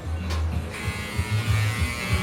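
A faulty electric hair clipper runs with a rough, noisy buzz, steady and close throughout with slight wavering in its hum.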